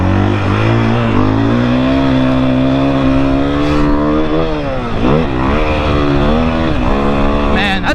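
A 2021 KTM 500 EXC dirt bike roars on a motocross track, loud and close, its engine note sweeping up and down through repeated revs and throttle changes with no break.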